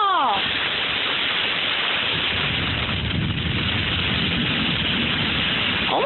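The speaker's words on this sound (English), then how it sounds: "Abracadabra, heavy rain must fall." Heavy rain pours down in a continuous dense hiss, steady and enveloping from start to finish, with a voice heard briefly at the beginning and end.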